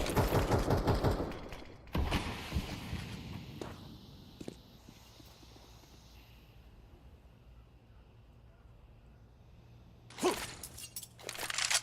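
Gunfire in a professional Counter-Strike match: a rapid burst of shots at the start, a few isolated shots and thuds, then another sharp burst near the end, with quieter game ambience in between.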